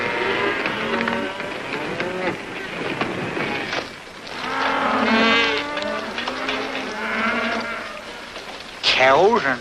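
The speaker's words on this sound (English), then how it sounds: "Cows on the Cariboo Trail?" Cattle low and moo repeatedly over a steady outdoor background, with voices talking at times and a sharp high call near the end.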